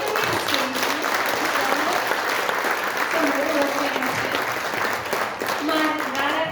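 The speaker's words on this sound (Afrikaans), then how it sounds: "En ek dink ons kan vir haar en haar hele span 'n groot hande klap." An audience at a children's Christmas concert gives a loud, sustained round of applause, with voices calling and cheering through the clapping for several seconds.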